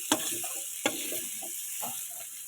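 Onion and garlic frying in a little oil alongside potatoes, a steady close sizzle broken by two sharp clacks and some stirring scrapes.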